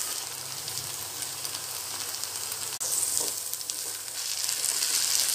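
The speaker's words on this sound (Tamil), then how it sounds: "சேர்த்துட்டு அதையும் நல்லா கிளறிக்கலாம்." Masala being stirred into ladyfinger frying in a pan for a tamarind curry, a continuous loud sizzle with scraping stirs; a brief sharp drop near the middle, then the hiss swells back, slightly brighter and busier.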